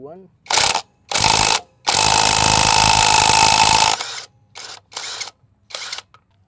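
Impact wrench loosening a 24mm wheel nut on a Mio i125 scooter: short loud bursts of rattling hammering, the longest lasting about two seconds, followed by several brief quieter mechanical clicks and taps.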